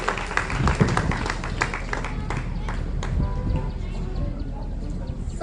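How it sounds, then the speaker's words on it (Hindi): Audience applause at a girls' school Mothers' Day celebration, welcoming a student singer: a dense, steady wash of clapping from a crowd, with voices mixed in throughout. "जोरदार तालियों से स्वागत कीजिए और हौसला बढ़ाइए सिमरन क्लास 10"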